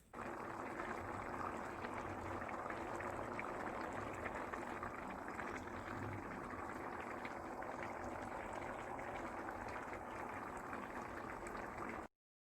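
Milk and carrots simmering in a pot for carrot halwa, a steady, continuous low bubbling and hiss of boiling liquid, close and even throughout with no talking.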